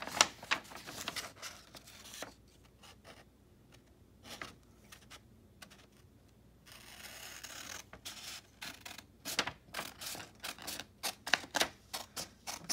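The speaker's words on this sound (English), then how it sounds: "I'm cutting a little border off of it." Scissors snip through draft paper for a skateboard deck, trimming a border: a run of crisp, rapid little cuts and paper scratches up close, pausing midway before continuing in quicker bursts, with no talking.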